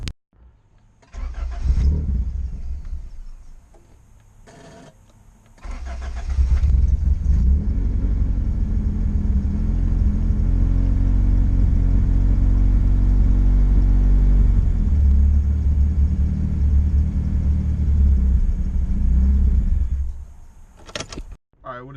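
A car is fired up: a few clunks and door-like thuds, then the engine catches and settles into a loud, deep, steady idle rumble close by for most of the clip before cutting off abruptly.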